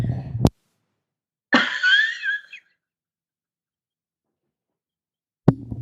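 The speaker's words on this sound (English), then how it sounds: "I have a little cough here" A single person's cough, one brief harsh burst near the start, then a short raspy wheezing exhale, and another abrupt cough fragment at the end, with silence between.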